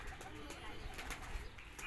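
Pigeons coo softly at some distance behind mesh netting in a domestic pigeon-keeping setting where a cat is playing near them, with faint chirps and a brief flutter under quiet background noise.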